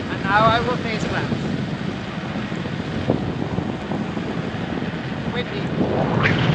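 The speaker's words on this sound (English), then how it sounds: "Windy." Steady wind buffets the microphone while riding an electric bike, a rough low roar with brief voices breaking through near the start and end.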